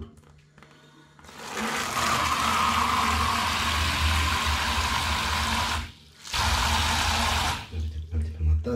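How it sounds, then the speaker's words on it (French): A tap runs water into a cup, a steady close hiss and splash that stops briefly, then flows again before trailing off, with faint talk underneath. "une tasse qu'on va remplir un petit peu d'eau"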